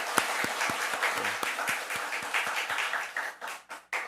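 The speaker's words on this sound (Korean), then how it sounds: "우리가 일단 아이스크림 못 사준다 할지라도 박수를 쳐줄 수 있지 않겠습니까?" A church congregation applauds its teachers at a Sunday afternoon service, a moderate round of clapping with a few sharp individual claps standing out near the start and trailing off into scattered final claps.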